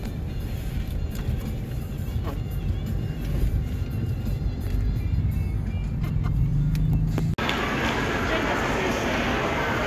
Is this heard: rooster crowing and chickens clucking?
no